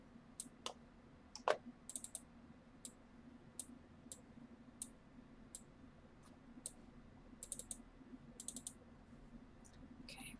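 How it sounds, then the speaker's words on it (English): Sharp left clicks from a computer mouse tap out irregularly, some singly and some in quick bursts, faint and close over a low steady hum, during play of the puzzle game The Room 2. "I keep left clicking accidentally."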